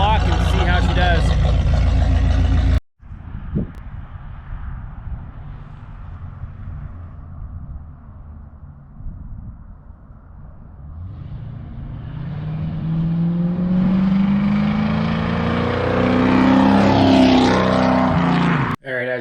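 A 1984 Corvette fitted with a muffler delete kit drives around the block. After a loud opening burst, the engine rumbles low and steady, then grows louder as it revs and accelerates, with a voice speaking near the start.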